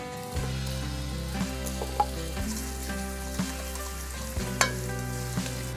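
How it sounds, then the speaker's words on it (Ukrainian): Salo (pork fat) and meat sizzle steadily in a pan, browning toward a golden crust. A spoon clinks and scrapes now and then as the food is stirred. Nobody speaks. "Сало ми підсмажили до золотавості, а м'ясо ми доведемо до золотистої скоринки."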